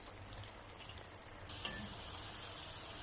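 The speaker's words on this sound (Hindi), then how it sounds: "हमारे फ्राइज जो हैं वो फ्राई हो रहे हैं" Potato french fries frying in hot oil: a continuous bright hiss and sizzle, close and moderately quiet, that swells slightly louder halfway through, with no talk.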